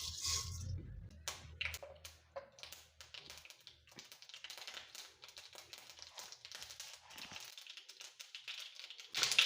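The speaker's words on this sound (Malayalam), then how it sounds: "ഇനി അതിലേക്ക് കടുക് ഇടാം." Mustard seeds sputter and pop in hot coconut oil for a banana-flower thoran, a quiet, dense run of sharp crackles and snaps that keeps going, with sizzling underneath and no talking.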